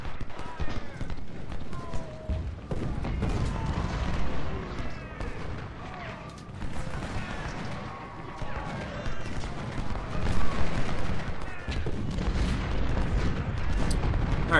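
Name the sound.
artillery and musket fire in Ultimate General: Civil War video game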